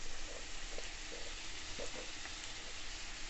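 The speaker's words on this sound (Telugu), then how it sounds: "ఇప్పుడు కొంచెం కరివేపాకుని వేసుకొని" Curry leaves and onions frying in an oiled pan, giving a steady dense sizzle with light stirring scrapes and crackles throughout, close and even.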